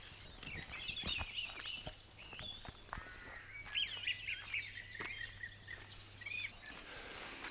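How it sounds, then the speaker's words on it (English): Several wrens trade sharp, rapid trilling bursts close by at dawn, with song thrush and blackbird singing more softly farther off, all layered into a busy chorus with no voices. "nearest to us at the moment we've got a couple of wrens having an argument"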